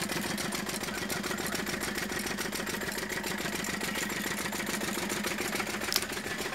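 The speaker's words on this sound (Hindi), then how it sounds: "ये हमारा इंजन देख सकते हैं आप इसकी चाल ढाल चलना कैसा चल रहा है" A Lister-type Field Marshal diesel engine runs steadily with its push rods working, giving a close, continuous drone with rapid, even thumping beats and no voices.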